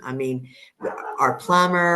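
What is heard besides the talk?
dog barking in the background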